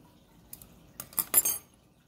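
A glass stir rod clinks against laboratory glassware in a few quick, bright taps that cluster toward the end, close and crisp against an otherwise quiet background.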